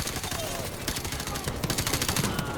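Rapid gunfire from Call of Duty 4's Crew Expendable freighter mission fills the scene, with bursts of automatic weapons and overlapping shots that rattle continuously and build toward a denser volley, while voices sit faintly underneath.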